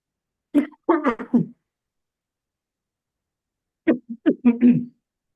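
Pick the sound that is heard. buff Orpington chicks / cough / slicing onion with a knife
cough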